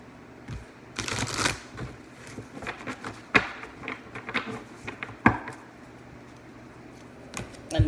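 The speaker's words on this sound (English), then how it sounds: "And I will shuffle them one more time and we will get to it." Oracle cards shuffled by hand in a quiet room, giving bursts of papery riffling and soft slaps with a few sharper taps between them, close and alone.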